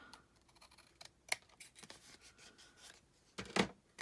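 Scissors snip through paper on a pocket-page craft journal, a few quiet crisp cuts and rustles, close up, the strongest snip near the end.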